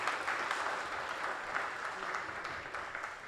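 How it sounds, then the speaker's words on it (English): Audience at a township awards night (WHAMM! Awards) applauding steadily for the full stretch, a dense, even wash of clapping from many hands with no voices rising above it. "one more round of applause for Impacting Tomorrow"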